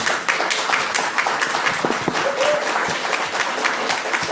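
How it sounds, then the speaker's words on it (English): An audience at a talk applauds, sustained crowd clapping that stays dense and loud throughout, with a faint voice briefly under it. "Clap for yourselves."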